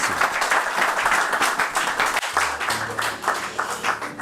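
An audience at a church gathering applauds loudly and steadily as an apostle is welcomed, a dense continuous wash of clapping with cheers over it, briefly dipping midway before carrying on with the same intensity.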